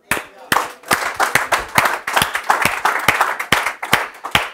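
Congregation applause at a church Bible teaching session, close and loud with individual sharp hand claps standing out in an uneven rhythm over a thinner crowd of clapping, lively and somewhat sparse rather than a smooth wash.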